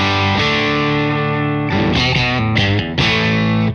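Electric guitar through a Morgan MVP66 amp at full gain, heavily distorted, a sustained crunchy chord ringing out, then quicker choppy riffing, loud and close with no voices.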